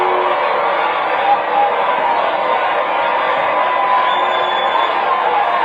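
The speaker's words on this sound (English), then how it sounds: "Are people booing and applauding?" A large rally crowd of about 12,000 people roars continuously, a dense wash of cheering, whooping and mixed booing and applause that stays loud and steady throughout with no clear individual voices.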